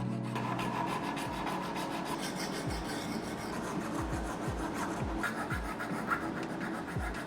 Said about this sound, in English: So I thought, let's take care of that and smoothen that out by using a file.